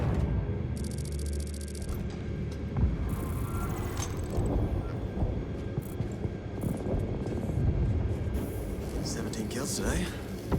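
Gunship engine roaring steadily in flight in the Space Marine 2 video game, a dense continuous rumble with droning hum, loud and close throughout, with voices talking over it.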